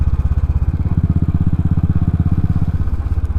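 A Royal Enfield motorcycle's fuel-injected engine idles and runs at low revs on a road test, a loud, close, steady thumping pulse that holds throughout with no voices.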